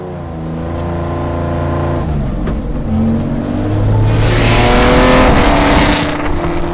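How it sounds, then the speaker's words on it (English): A powerful sports car engine idles with a deep rumble, then revs up loudly and climbs in pitch, close by and alone. "The sound of the car is just incredible."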